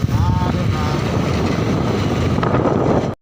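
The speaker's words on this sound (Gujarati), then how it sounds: "કાલ રાતે વરસાદ થયો હતો એટલે ઠંડો પવન આવે છે।" Cold wind after overnight rain blows hard across the microphone on hills near Dharoi Dam, a steady loud rushing rumble with no talking.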